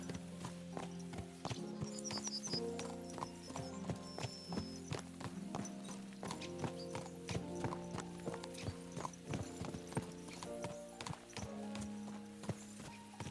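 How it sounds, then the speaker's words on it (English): Horses' hooves clip-clop in a quick, continuous trot in the video game Kingdom Come: Deliverance II, with occasional whinnies and jingling tack over a steady music bed. "Let's really spur these horses on, eh?"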